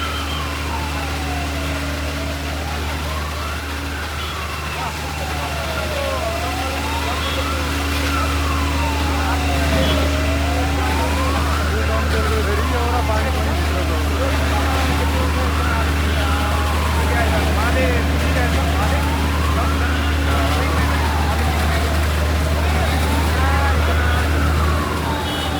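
Fire engine sirens at a building fire wail in a slow, rising and falling cycle over a low rumbling engine drone, loud and continuous throughout, with people talking underneath.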